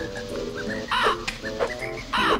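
Several birds caw repeatedly over a busy background of music-like tones in Banjo-Kazooie's Click Clock Wood, the harsh calls overlapping at a fairly close, loud level.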